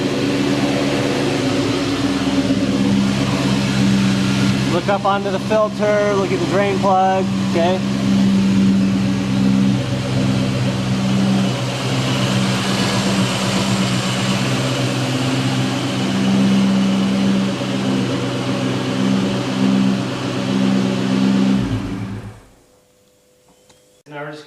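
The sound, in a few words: Ford Mustang engine running after oil change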